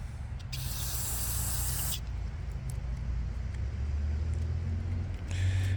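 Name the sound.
spraying O'Reilly's carburetor choke cleaner aerosol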